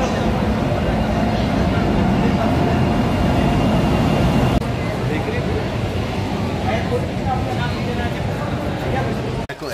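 A long-distance train on the Howrah to Kalka route rolls along with a loud, continuous clattering rumble inside the coach, with faint voices beneath the steady rail noise.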